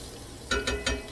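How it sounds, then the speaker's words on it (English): Onions tipped into a hot frying pan while making keto sausage with sauerkraut, giving three short bursts of sizzling and stirring that are close and fairly loud. "Okay, so I'm going to add the onions."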